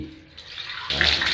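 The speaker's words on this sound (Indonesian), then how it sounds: "siram lagi, disiram pakai air bersih" Clean water is poured or sprayed to rinse a bathroom floor after scrubbing off scale, a short splashing gush that starts softly and surges louder near the end.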